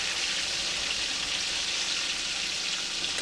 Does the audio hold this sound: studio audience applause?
no